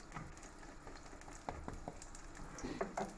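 Beef bone marrow frying in a pan until crisp, giving a faint, steady crackle with a few sharper pops scattered throughout.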